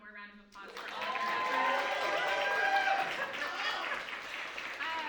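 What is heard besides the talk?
audience applause at a concert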